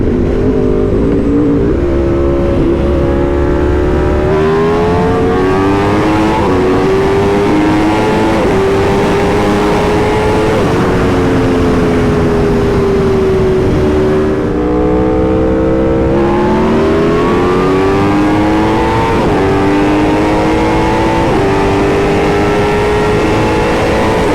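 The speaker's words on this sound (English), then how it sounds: "this bike feels very unique with this V4 engine" A 2022 Aprilia RSV4 Factory's V4 motorcycle engine revs loud and close, pitch climbing and falling through repeated throttle surges with no pauses.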